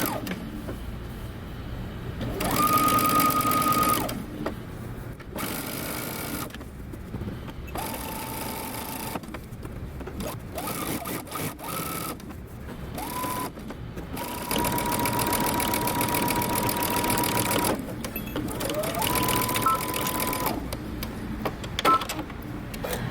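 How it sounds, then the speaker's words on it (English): Sewing machine stitching across a garment section, joining a bodice to a skirt with a backstitch at the start; steady close mechanical whirring runs in several bursts with brief pauses between runs. "we're going to go ahead and sew across the entire section, joining our bodice to our skirt"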